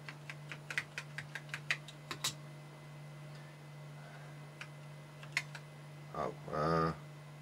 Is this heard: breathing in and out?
no